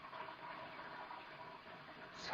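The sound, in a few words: water running in a house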